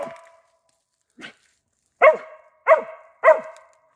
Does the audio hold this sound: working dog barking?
yes